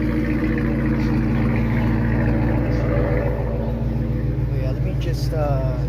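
A 2018 Dodge Challenger R/T engine idles with a steady, deep rumble close by while a person talks over it.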